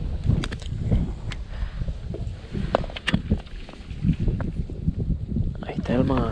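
Strong wind gusts buffet a lakeside spot during carp and crucian carp fishing, a continuous rushing roar with microphone buffeting, while someone talks over it throughout.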